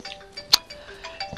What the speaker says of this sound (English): I got a phone call, hold up.